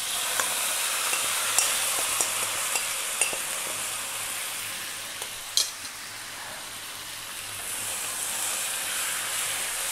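Spices and a chicken curry mixture sizzle steadily in hot oil over high heat, a constant close frying hiss with occasional light clinks of a utensil stirring the pan.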